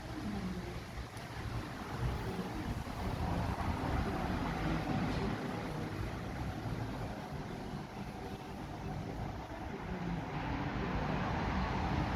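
Constant wind rumbles and buffets the microphone throughout, a steady low roar outdoors with no talking.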